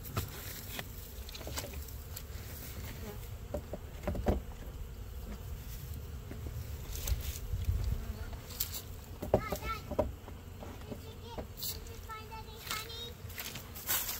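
Honey bees buzz in a winter hive during an inspection with sugar feeding, a faint, steady drone beneath occasional bumps and handling noises, with people talking intermittently.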